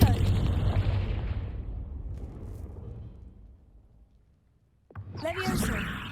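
A Confringo explosion spell goes off in the video game Hogwarts Legacy: a loud, deep blast that rumbles and slowly fades over several seconds, then a sharp new crackling burst near the end.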